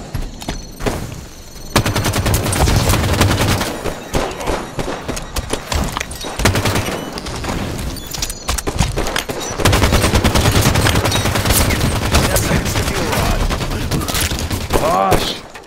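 Heavy gunfire from the video game Halo 5, dense rapid bursts and sustained volleys that are loud and close and keep firing almost without a break, while players talk over the shooting at times.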